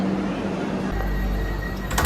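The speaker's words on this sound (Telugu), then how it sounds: "మొత్తానికి అనంతపూర్ ట్రైన్ డోర్ లాక్స్ పడిపోయినాయండి." Doors on a Vande Bharat express train close and lock at Anantapur station, a sliding rumble followed by a low thud and faint clicks at the end.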